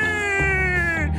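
A cartoon cat lets out a single drawn-out, angry-sounding meow, loud and close, lasting just over a second with a slightly falling pitch.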